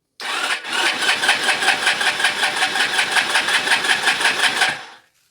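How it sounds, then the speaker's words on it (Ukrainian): A motorcycle's electric starter cranks a reluctant engine for about five seconds in a fast, rhythmic whirring pulse, close and loud, then stops without the engine catching. "Ну і краще намагатися запустити. Е, зі стартер, якщо він у вас є, і у вас заряджений акумулятор."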